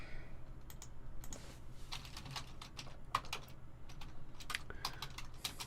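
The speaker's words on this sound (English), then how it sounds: "no typing, Chris, no typing" Computer keyboard typing: rapid, irregular clicks and taps at close range, fairly quiet over a low room hum, with no talking.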